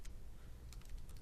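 Rapid keystrokes on a computer keyboard while code is typed in, a quick irregular clatter of close, crisp taps with no voice over it.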